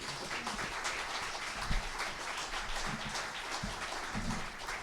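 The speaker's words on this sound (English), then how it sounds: "A round of applause for the candidates." A crowd claps steadily in a room at a 2019 city council candidates forum in Jamestown, New York, a sustained wash of applause at moderate loudness.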